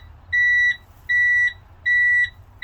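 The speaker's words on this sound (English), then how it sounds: "I'm letting go of my service brake, and that's why it's beeping at us" A steady electronic beeping from a truck's low-air brake warning as the service brake is released, evenly spaced high-pitched tones repeating about once a second over a low engine rumble.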